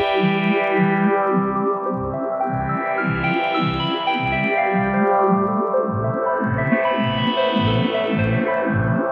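A Korg MS-20 synthesizer plays a repeating rhythmic tone with delay echoes and reverb, its brightness sweeping up and down in slow waves.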